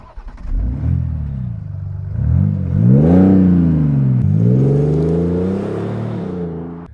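A powerful BMW X5 M50d diesel engine with four turbochargers revs up repeatedly, pitch climbing and falling in several sweeps, loud and close with a deep rumbling tone and no voices.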